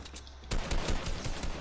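Gunfire during a Fortnite box fight: a sudden loud flurry of overlapping shots and impacts starting partway through, dense and continuous, with a quieter stretch before it.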